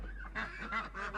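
Goose honking in a few faint, harsh nasal calls in quick succession, distant and low in level over a steady rumble.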